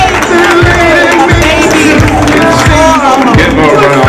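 A retirement party crowd applauds: dense, loud, continuous clapping and cheering close by, sustained through the whole stretch with a few voices mixed in.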